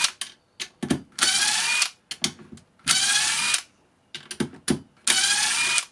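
DeWalt 18V impact driver driving screws, with repeated loud bursts of high whirring and hammering, each a second or so long, separated by short gaps and clicks.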